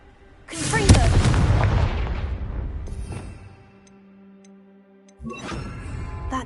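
The Confringo fire blast spell in Hogwarts Legacy on PS5 erupts as a loud, close explosive boom that rolls off and decays over a couple of seconds, followed by quiet game ambience and a second sharp impact.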